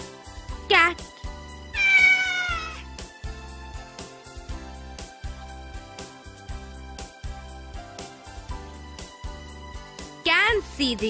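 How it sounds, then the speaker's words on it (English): A cat meows a few times, with clear wavering cries near the start and end, over a looping children's educational background tune with a steady beat. "Cat,"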